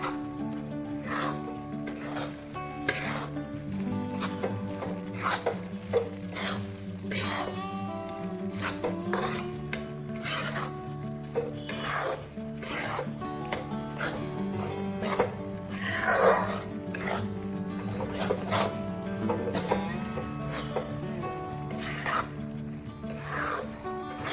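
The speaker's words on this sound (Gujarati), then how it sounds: "ઘી એડ કરીને આપણે ભાખરીનો જાડો લોટ એડ કરીને આપણે પછી એને શેકી લેવાનો છે।" Coarse wheat flour roasting in ghee for Gujarati gundar paak, a spatula rubbing and scraping through the thick flour against the pan in a continuous rasping rhythm, with occasional metal clinks, close and moderately quiet.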